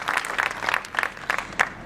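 Audience applause at a corporate event introducing executives: a brief, moderate burst of clapping with distinct individual claps standing out, fairly close, no talking over it.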